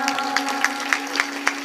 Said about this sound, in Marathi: पतिदेवासाठी सुद्धा टाळ्या वाजवा.